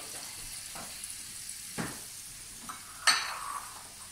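Shallot and garlic frying in a pan, a faint steady sizzle with occasional stirring scrapes and one louder clatter near the end, close and quiet, with no voices.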